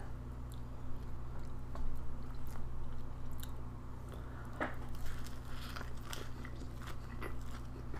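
Biting and chewing a chimichanga topped with salsa and sour cream, close up: soft crunches and wet chewing with a few crisp bites over a steady low hum, no talking.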